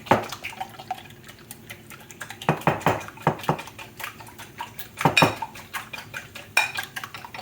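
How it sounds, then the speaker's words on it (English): Eggs being whisked in a bowl while making Florida blue crab cakes, heard as irregular bursts of clinking and tapping against the bowl, with a quieter stretch between the busier moments. "You'll just whisk them up a little bit"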